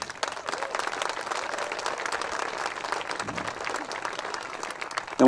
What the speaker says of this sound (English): Can we give our staff a round of applause?